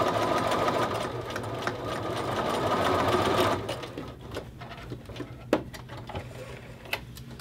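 A sewing machine edge stitches a men's shirt collar, running in a steady close whir for about three and a half seconds before stopping, followed by quiet handling clicks and taps.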